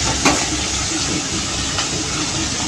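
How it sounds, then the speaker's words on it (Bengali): Fish pieces coated in turmeric fry in hot oil, giving a loud, continuous close-up hiss and sizzle with a couple of sharper spatter pops. "হলুদ মাখিয়েছিল, মাছ ছিটে ছিটে চলে আসছে"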